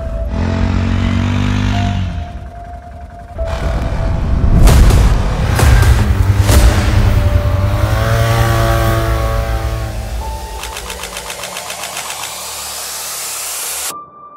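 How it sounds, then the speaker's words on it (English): An ATV engine with a grinding noise from a failing fuel pump at the back, loud and close, idling and then revving up and down, with a rough whirring grind and a buzzing tone near the end. "has your ATV ever sounded like this? Maybe it's coming from the back of the ATV, a grinding noise."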